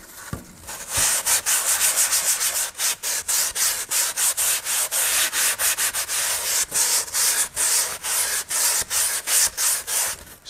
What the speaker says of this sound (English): I'm going to do it with one piece of sandpaper.